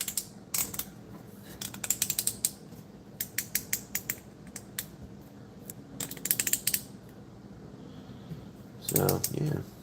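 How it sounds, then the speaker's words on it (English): A Transformers toy figure's ratcheting joint clicks in quick bursts as it is moved, small close plastic ticks in clusters, followed by a short rustle near the end. "Oh, they actually ratcheted this joint this time."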